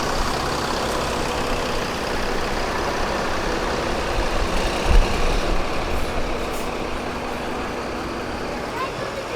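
A long-distance bus leaves a terminal in Bekasi bound for West Sumatra, its engine a steady loud rumble with a brief air-brake hiss midway, set against busy traffic noise and people talking.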